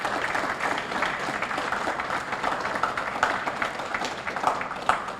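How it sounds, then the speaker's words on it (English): A seated audience claps at an evening Rotary Club scholarship ceremony, a moderate, steady round of applause with scattered sharper claps. "if we can give a round of applause for the parents here tonight"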